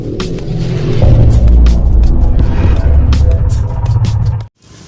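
Cars pass by outdoors, a loud close rumbling engine swell that builds, holds for several seconds, then cuts off abruptly to near quiet.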